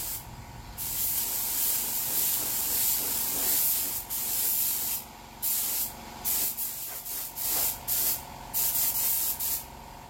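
A spray gun hisses loudly in long bursts while spraying paint on a Honda Verza motorcycle, then in shorter on-off sprays with brief pauses between them.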